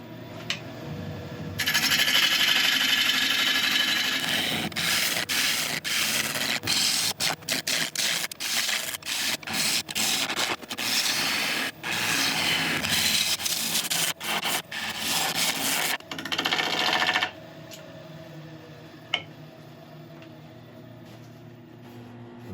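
A Record Power ball gouge cuts a large sequoia redwood blank on a wood lathe, giving a loud, rough scraping roar broken by rapid chattering bursts. It runs for about fifteen seconds and then stops, leaving quieter hum.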